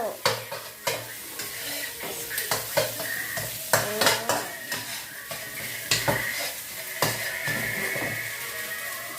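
A spatula scrapes and clacks against a pan while crab fried rice sizzles underneath, rhythmic stirring strokes repeating every half second or so, close and fairly quiet.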